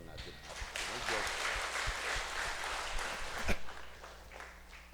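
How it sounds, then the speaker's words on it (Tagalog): A congregation at a Filipino thanksgiving mass claps together in a sustained round of applause inside the church, steady and moderately loud, with a voice speaking over it and the clapping tapering off near the end. "palakpakan pa rin natin ang Diyos."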